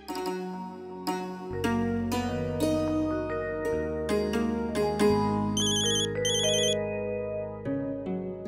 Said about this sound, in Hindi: अंशु का फोन है